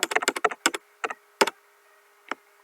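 Fingers type matrix values on a computer keyboard: a quick burst of clicking keystrokes followed by a few isolated taps, close and crisp over a faint background hum.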